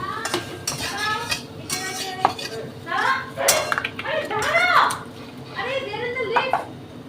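Metal spatula strokes clink and scrape against a pan as potatoes are stirred with salt and sugar, with several sharp clinks spread through the clip, all under steady talking.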